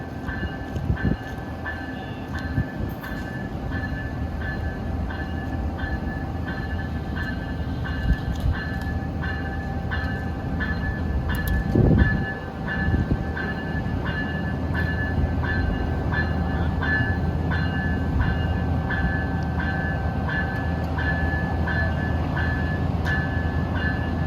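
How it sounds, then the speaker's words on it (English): Via Rail passenger train led by new Siemens Charger locomotives arriving on the CN Kingston Subdivision, a steady loud rumble of rolling cars and engine drone with a rising swell of noise midway, continuous throughout. "Arriving is Via Rail 24 from Ottawa to Quebec City at 11:40 with the new Via Rail Siemens charger sets"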